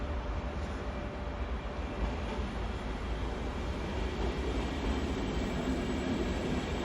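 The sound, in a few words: Italo high-speed train arriving at Venezia Mestre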